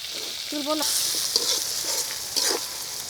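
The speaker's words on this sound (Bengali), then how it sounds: "পেঁয়াজ আর কাঁচামরিচ দিয়ে ভেজে মাখিয়ে তুলতে হবে" Onion and green chilies fry in a pan for a village-style dish with hilsa and aram leaves, giving a steady close sizzle with a few brief stirring scrapes and a faint tonal squeak early on.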